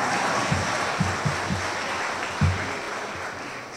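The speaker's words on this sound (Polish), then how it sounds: "Gromkie brawa." Applause from a large crowd at a festival gala concert, a steady broadband clatter of clapping that runs the whole time, with a few louder low thumps scattered through it.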